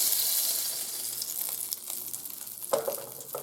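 Butter sizzles in a hot pan ahead of banana pancakes, giving a steady, close, continuous hiss and crackle with slight stirring movement and no voices.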